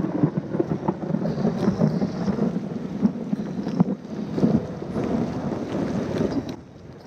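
Cold rain falls outdoors amid rumbling wind buffeting the microphone, a rough, continuous roar with gusty swells and no talking.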